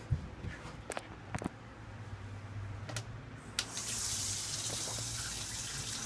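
Water runs through the plumbing of an enclosed cargo trailer conversion and drains into a shower, a steady rushing gush that swells louder partway through, with a few clicks and knocks before it.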